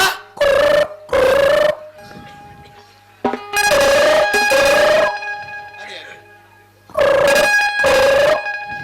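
A telephone rings in repeated bursts, two rings at a time with pauses between, loud and close, with a little background noise in the gaps.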